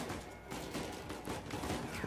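Rapid, dense gunfire from the video game Uncharted 4, a sustained fusillade of shots with crashing impacts running nonstop throughout.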